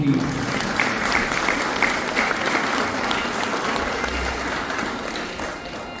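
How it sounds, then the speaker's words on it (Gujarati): Loud, sustained applause from a large audience at a religious gathering, welcoming the organisers and volunteers, holding steady for several seconds before easing slightly. "એકવાર જોરદાર તાળીઓના નાદથી વધાવી લઈએ"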